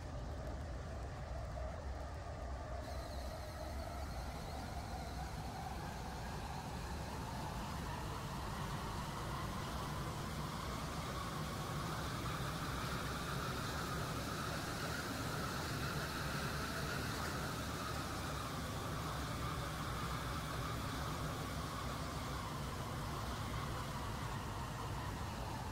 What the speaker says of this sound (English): This train is now approaching Stepford East.